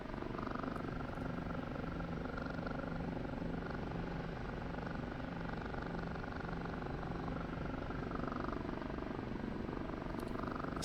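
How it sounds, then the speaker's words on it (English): An OH-58D helicopter in the DCS flight simulator hums from the cockpit, its four-blade rotor producing a steady, even throb with a continuous engine whine underneath, constant and moderately loud throughout. "4-blade rotor wop that this thing's got."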